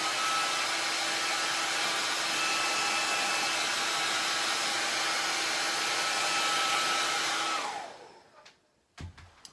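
A hair dryer blows steadily on a camper painting, a loud, close, unbroken whoosh that winds down and cuts off near the end, followed by a couple of small knocks.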